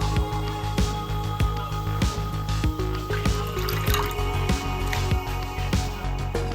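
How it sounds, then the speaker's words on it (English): Ginger and garlic water poured into a pan of gravy for a Thai spicy glass noodle salad, a steady liquid trickle with small drips running close by under continuous background music. "Now we're going to add some ginger and garlic water."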